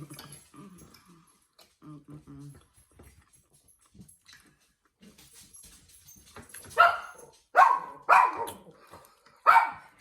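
A dog barks four times in sharp, loud, close bursts near the end, after a quieter stretch of faint murmuring and soft whimper-like sounds, during a steak and eggs eating session.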